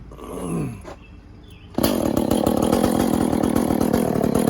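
A small two-stroke engine, likely a chainsaw needing a muffler mod and port job, rasps to life after a brief pull and holds a loud, close, steady buzzing run.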